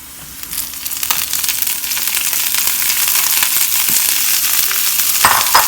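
Garlic fries loudly in a pan, a dense, steady sizzle that swells after a quiet start, with scraping stirs near the end.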